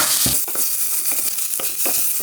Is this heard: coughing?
no